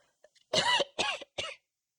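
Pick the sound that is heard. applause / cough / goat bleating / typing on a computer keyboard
cough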